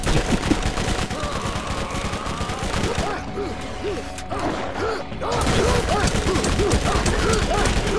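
Bursts of gunfire in the video game Borderlands, loud and continuous with a brief lull midway, layered with game effects and voices talking over it.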